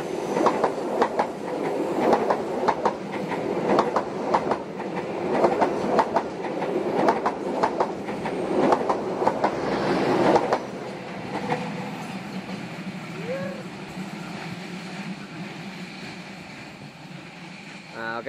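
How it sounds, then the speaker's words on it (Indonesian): The Lodaya passenger train passes straight through Lebak Jero station close by with rhythmic clattering of wheels, loud and steady, then fades to a quieter hum as it moves away. "itu dia kereta api Lodaya ya, sudah persiapan melintas langsung stasiun Lebak Jero ya"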